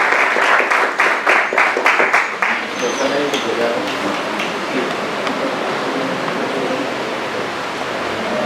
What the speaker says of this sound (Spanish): un fuerte aplauso para él y damos la bienvenida